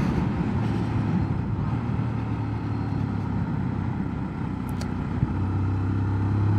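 A Sinnis GPX 125 motorcycle engine drones steadily and loudly, a constant close hum with a slight shift partway through, no speech over it.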